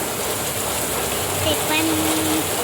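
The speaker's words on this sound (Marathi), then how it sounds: "काय बोलू आता या पावसाला तुम्हीच सांगा बघा किती जोरदार" Steady hiss of heavy rain fills the whole stretch, with a faint tone and distant sounds briefly rising above it.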